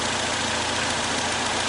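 A car engine idles steadily, a close, constant low rumble with no change in pace, heard alone over a short stretch.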